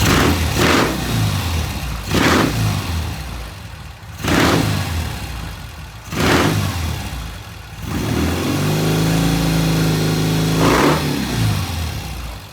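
A motorcycle engine is revved hard again and again in sharp bursts while smoking, then settles into a rough, steady idle with one more surge near the end.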